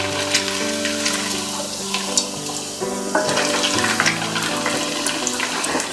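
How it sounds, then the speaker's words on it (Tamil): Stuffed bread pockets fry in hot oil with a steady, close sizzle and crackle, while faint sustained tones run underneath throughout. "ப்ரெட் பாக்கெட்டை செஞ்சு வச்சதை ஆயிலில் ஃப்ரை பண்ணிடுறேன்"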